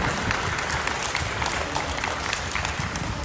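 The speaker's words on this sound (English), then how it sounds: "I would like to all of you to request a big round of applause to FCT officers and committee for making this happen." Crowd applause at a Filipino community sports fest in Tanzania, a thick, continuous wash of clapping from a large group, steady and fairly loud throughout.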